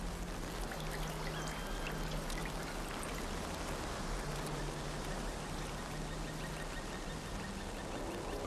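Nachi waterfall in Japan's Kumano mountains gives a constant, even rush of falling water with a soft low undertone. It is broadband and unbroken, with no talk.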